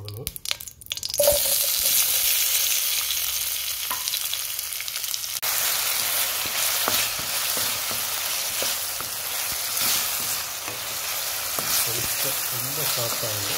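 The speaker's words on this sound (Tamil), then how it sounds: "கொஞ்சம் ஆயில் விட்டுட்டு நம்ம கட் பண்ணி வச்சுருக்கிற வெஜிடபிள்ஸை கொஞ்சம் போடணும்." Cut vegetables dropped into hot oil in a pan for millet noodles, a sharp initial clatter giving way to continuous loud sizzling and frying crackle with faint stirring, close up and without talk.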